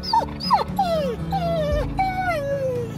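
A dog whimpers in a series of high, drawn-out whines and short yips, close and fairly loud, each cry sliding downward in pitch, over a low background rumble.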